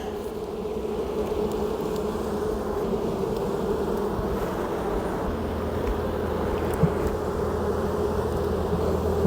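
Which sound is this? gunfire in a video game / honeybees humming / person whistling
honeybees humming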